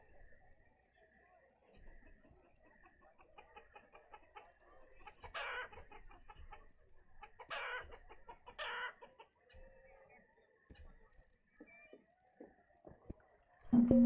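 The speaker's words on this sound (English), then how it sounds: "we're going to start to see the chickens appear over here" Chickens cluck in the village-building game Banished, soft intermittent clucks and a few sharper calls that recur across the stretch against a quiet background, with a louder call at the very end.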